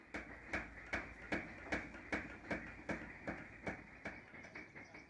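A hammer beats silver or gold leaf in a craftsman's workshop, a steady, evenly paced run of about a dozen sharp metallic strikes, moderately close and clear, with no voices over them.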